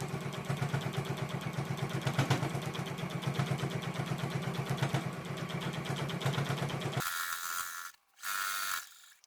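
A home sewing machine quilts a table runner with a fast, steady mechanical stitching chatter at close range, stopping abruptly near the end for a few short back-stitch bursts with brief silences between.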